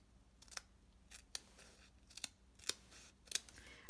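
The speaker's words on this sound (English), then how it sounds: "I run out, so I've got to cut some more" Scissors snip glue dots for a card kit, five or six crisp separate cuts spaced irregularly over a quiet background.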